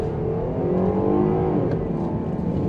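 A 2021 Jeep Grand Cherokee L in sport mode accelerating, heard from the cabin as a steady, loud engine drone that rises in pitch, with no talking.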